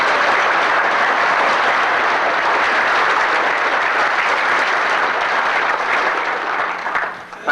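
Sustained audience applause at an air war symposium on escape and evasion, a dense, loud wash of clapping lasting several seconds before thinning out at the end.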